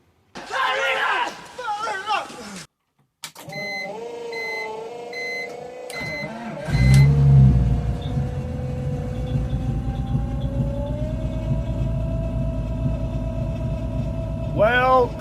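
A BMW engine with one cylinder not firing is started and runs up close, loud and rough with an uneven idle, after a short spell of someone talking and a few beeps.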